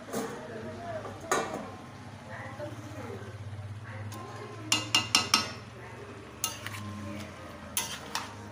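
Chicken, potato and cauliflower curry is stirred and sautéed in a pan, with a low hum, soft scraping, and a cluster of sharp metallic spoon clinks against the pan, plus a few later taps.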